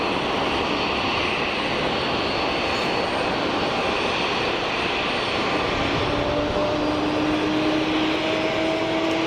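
A KLM Embraer 190 jet at Geneva Airport produces a loud, near, sustained engine roar with a rising whine emerging in the last few seconds.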